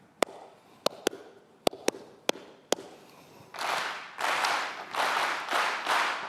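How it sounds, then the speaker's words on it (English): Seven sharp single hand claps ring out in an uneven rhythmic pattern, then a large audience answers with five bursts of loud, dense clapping in the same pattern. "I'm going to clap a pattern."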